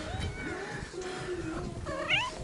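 Several cats meow and yowl in drawn-out, wavering cries, fairly close, overlapping one another against a low background rumble.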